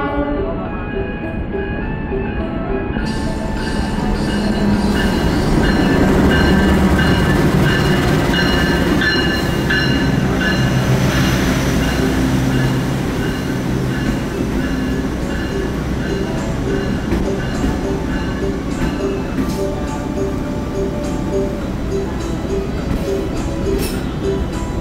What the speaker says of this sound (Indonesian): ini kereta Sembrani tiba di stasiun Cirebon dan tibanya awal 2 menit dari jadwal